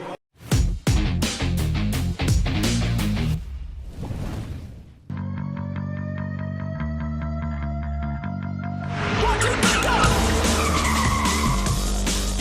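A sports car skids in a Pepsi commercial: a series of sharp bangs and hits leads into a sustained tire squeal, then a bright, busy mix of squealing and effects, loud and continuous.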